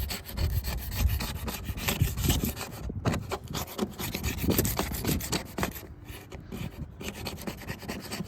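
A knife scraping old paint off a jon boat hull, a continuous rough rasping and scratching in steady back-and-forth strokes, loud and close with no voices.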